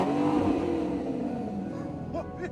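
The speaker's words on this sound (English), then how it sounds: "When the carer discovers a sports car owned by the quadriplegic that he cares for" A sports car engine revving and accelerating, a loud, close roar that eases off, then sharp whistle-like squeals near the end.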